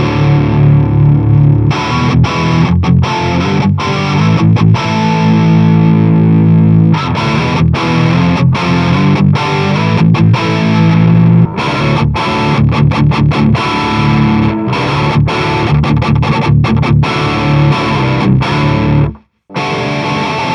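Heavily distorted electric guitar riffing through a 50-50 blend of two cabinet impulse responses, giving a darker tone, loud and continuous with rhythmic chugging stops and a brief cut near the end.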